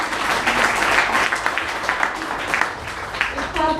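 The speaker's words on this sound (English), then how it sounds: "We can clap everyone." An audience at a tech talk event bursts into steady applause, a dense crackle of many hands clapping close by for several seconds, with voices mixed in underneath.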